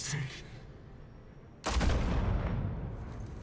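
A sudden loud gunshot blast in the Batman: The Telltale Series video game, a single sharp report with a lingering rumble after it, following a quieter stretch.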